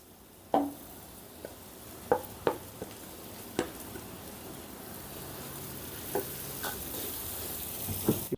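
Mashed potato with spices being stirred and fried in a pan, a steady sizzle broken by sharp spoon knocks against the pan at irregular intervals, close with no voices.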